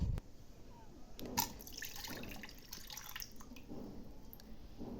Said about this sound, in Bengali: এবার আমি জলটা ঢেলে নিচ্ছি।